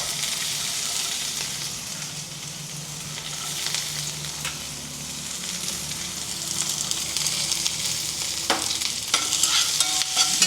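Onions, chana dal, mustard seeds, dried red chillies and green chillies frying in oil for a Telugu flat bean curry, with a steady sizzle and spoon scrapes stirring through the pan, close and continuous with no talk.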